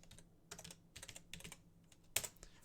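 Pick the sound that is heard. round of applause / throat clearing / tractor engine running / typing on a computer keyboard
typing on a computer keyboard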